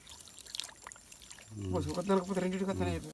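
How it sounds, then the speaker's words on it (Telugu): Water is poured into a water pump motor during village drinking-water repairs, heard as a faint trickling pour that a nearby voice then talks over for the second half. "ఇక్కడ వాటర్ పోయాలి ఇంకా పోయాలి"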